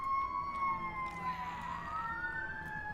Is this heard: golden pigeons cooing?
no